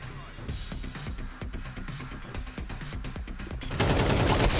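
Rapid bursts of automatic rifle fire in the video game Counter-Strike 2, with sharp, closely spaced shots in a steady rhythm that swell louder near the end.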